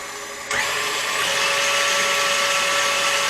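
An electric mixer whipping egg whites for sugar-free maple meringue cookies switches up to a higher speed, jumping abruptly from a quiet hum to a loud, steady, high-pitched whir that persists alone.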